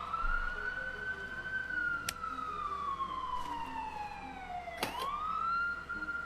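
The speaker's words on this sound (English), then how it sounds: "Recording police sirens." A police siren in the video game The Wardrobe wails with a slow rising and falling tone, close and fairly loud, with a few brief clicks and knocks over it.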